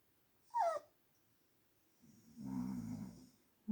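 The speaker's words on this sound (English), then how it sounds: "Daddy is snoring," A man snores in long, low, rumbling breaths, heard close in a quiet bedroom, with a dog's brief high whine cutting in between the snores.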